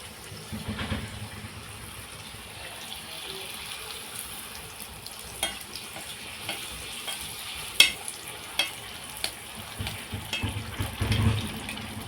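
Fuchka puris dropped into very hot oil for frying, a soft continuous sizzle and bubbling with scattered sharp crackles and pops, growing busier toward the end, fairly quiet and close with no talk.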